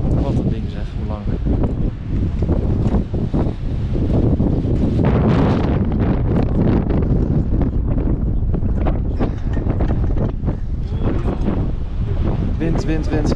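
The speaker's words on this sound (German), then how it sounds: "Wind, wind, wind." Strong wind buffets the microphone high on the Jungfrau near the Aletsch glacier, a loud, constant roaring rumble with gusts, while people talk throughout.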